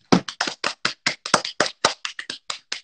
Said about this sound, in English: Have a round of applause, everyone.